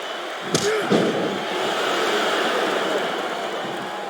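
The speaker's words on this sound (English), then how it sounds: "It sounds like this capacity crowd has something on their minds" A capacity arena crowd roars in a WWE SmackDown vs RAW 2007 wrestling game, a steady, dense wall of cheering noise with a couple of sharp thuds from the ring near the start.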